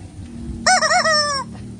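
A rooster near a smoky chicken roasting stand in Cuernavaca, Mexico crows once, loud and close, a wavering drawn-out call of about a second rising over background chatter and street noise.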